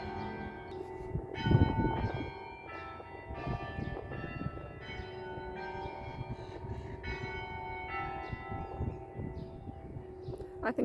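Church bells ring in a repeating pattern of overlapping strikes with long resonant decays, moderately distant and steady for the whole stretch, with no speech.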